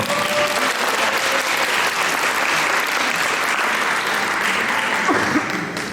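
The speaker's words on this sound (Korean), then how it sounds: "박수 부탁드리겠습니다" Wedding guests at a ceremony in the Grace Hall of Incheon Asiad Convention applaud the newlyweds, a dense, sustained roar of clapping that stays loud and even throughout before easing slightly at the very end.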